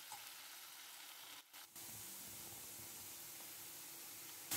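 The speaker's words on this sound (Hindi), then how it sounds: "अब मैं डाल दूँगी बैंगन और इसको थोड़ी देर हम भुनेंगे।" Steady broadband sizzling of eggplant roasting in a hot pan, continuous and close, with a brief dip partway through.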